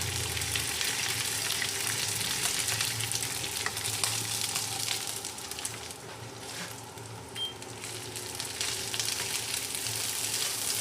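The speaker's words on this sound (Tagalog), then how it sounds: "Isasangag na natin yung ating leftover na kanin." Leftover rice sizzling and frying with garlic for Filipino sinangag, a loud steady crackle with stirring scrapes in the pan, continuous and close with no voices.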